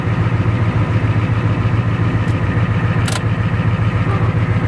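A 1980 Freightliner dump truck with a Cummins 855 diesel engine runs steadily nearby, a loud, continuous low rumble with a suspected bad bearing, and no voices.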